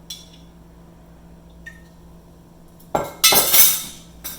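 Powdered sugar and vanilla are mixed in a bowl for cream cheese icing on a giant cinnamon bun, a quiet stretch then a burst of scraping and clinking utensil strokes against the bowl near the end.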